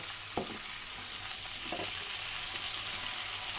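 A pan of curry sizzles continuously on the stove while a spoon stirs it, with two brief scraping strokes early on over the steady frying hiss.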